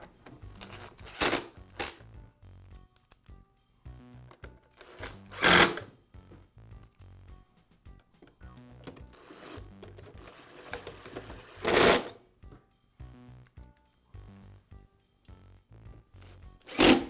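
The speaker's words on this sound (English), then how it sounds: "Now I'll reinstall the screws that secure the two halves of the housing together." Small screws being driven back in to hold the two housing halves of a Bostitch air compressor together, heard as faint clicks and tool rattles, with a few louder bursts of handling noise.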